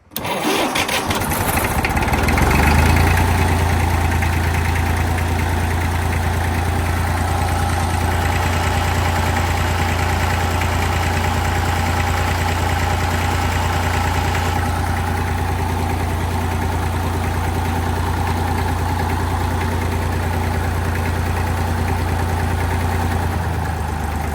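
Tractor engine run up to higher throttle after the control switch is turned on, a loud, steady low drone that settles into a continuous even roar, close by and uninterrupted for the whole stretch.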